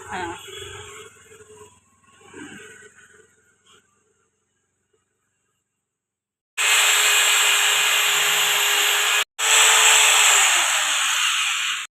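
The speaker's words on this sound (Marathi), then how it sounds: "हा जरा ड्रिल मशीनने होल पाडायला सांगितलंय" A power drill bores a hole in a packet at a Konkan village garden, running in two loud steady bursts with a brief stop between, after a quieter stretch of earlier handling noises.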